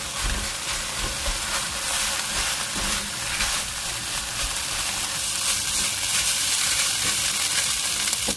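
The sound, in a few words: stir-frying rice with pickled radish and sauce in pan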